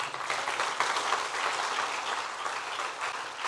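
A church congregation bursts into sustained applause, a dense, even field of clapping from many hands that stays strong for several seconds with small swells.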